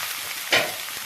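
Spices and salt being stir-fried in a pan for South Indian sambar, with a soft steady sizzle and a brief louder scrape of stirring in the middle.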